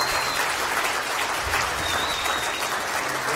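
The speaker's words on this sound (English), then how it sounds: "A big round of applause." Audience applause fills a town hall on border wall issues, a steady dense wash of clapping sustained throughout at even loudness, with no speech over it.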